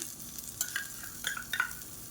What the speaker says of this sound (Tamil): இப்போ இதில் ஒரு 1/4 கப் அளவுக்கு துருவின தேங்காய் சேர்த்துக்கலாம்